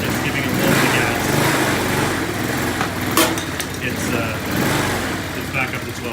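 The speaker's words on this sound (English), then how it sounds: "with the lights on and the bike just running at idle" A motorcycle idling with its lights on, a steady low engine rumble running throughout beneath someone talking nearby, with a few brief clicks.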